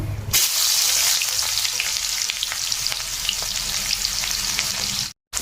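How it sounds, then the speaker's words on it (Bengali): Chopped onion and chili dropped into hot oil, bursting into a loud, dense sizzle that holds steady and close for several seconds before cutting off abruptly near the end, with no voices. "তেলটা গরম হয়ে গেছে অ্যাড করব কেটে রাখা পেঁয়াজ লঙ্কা"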